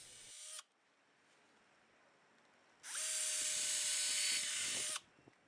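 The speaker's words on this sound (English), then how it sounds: "I followed this up by pre-drilling all of my holes to prevent splitting." A power drill pre-drills holes in wood in two bursts, a short one then a longer steady run of about two seconds, separated by quiet.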